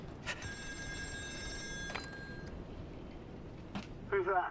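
Old-fashioned telephone bell ringing in the horror game Still Wakes the Deep, set on an offshore oil rig; two short trilling rings a second and a half apart over low droning rumble, followed by a faint electronic chime.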